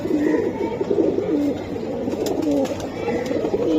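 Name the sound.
pigeons cooing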